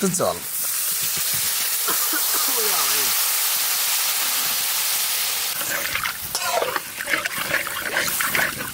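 Koi fish fry in hot oil in a pan with a little water added, giving a loud, continuous hissing sizzle up close, while people talk over it at the start and again near the end.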